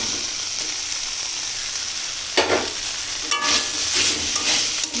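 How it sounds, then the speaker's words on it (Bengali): Chopped tomato dropped into hot oil and ghee for a vegetarian banana flower dish with chickpeas and paneer: a steady loud sizzle, then a sharp burst of frying and stirring scrapes as the pieces hit the pan. "তেল ছেড়ে দিয়েছে এবার দেবো টমেটো কুচি"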